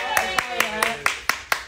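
Seven quick, evenly spaced hand claps ring out close and crisp during a live-streamed art class, over a faint tonal background.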